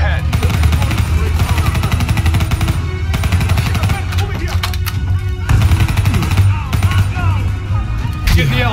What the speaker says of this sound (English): I don't know who I'm shooting.